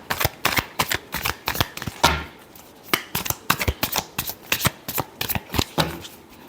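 Tarot cards shuffled close by in quick, papery riffles and slaps, a steady string of sharp bursts with one heavier thump, no voice over it.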